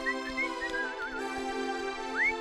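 A tune is whistled for a tin man in a children's story, with a few short sliding whistled notes over a steady background hum, fairly soft and with no speech.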